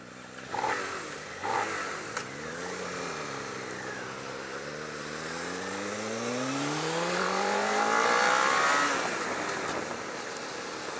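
A 2018 Suzuki SV650 motorcycle engine revs up through rising, snarling intake harmonics, building to a loud peak before easing off; a couple of short clicks sound early on.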